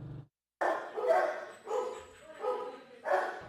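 Dogs bark at the Animal Friends Humane Society shelter in Hamilton, several loud, close barks in quick bursts after a brief pause, with kennel echo around them.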